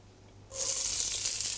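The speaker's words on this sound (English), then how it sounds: "Some extra virgin olive oil. We're going to start with some onions first." Chopped onions hit hot extra virgin olive oil in a pan with a sudden loud hiss that keeps sizzling steadily and close, bright and crackling, with no talk over it.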